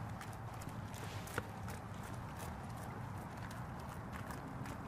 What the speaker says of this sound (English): Oh no, I've lost control of the horses!